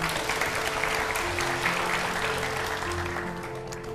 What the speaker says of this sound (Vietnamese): mọi người vỗ tay đi nào